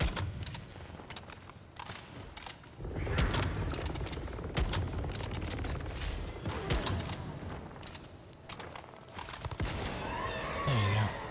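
Rapid bursts of gunfire from the survival shooter game Once Human, dense volleys repeating over a continuous backdrop of in-game noise and movement.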